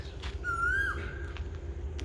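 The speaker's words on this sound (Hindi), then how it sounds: "यहाँ कोयल बोल रही है।" An Asian koel sings outdoors in rural Punjab, Pakistan, one clear rising whistled note held about a second over a steady low rumble of ambient background noise.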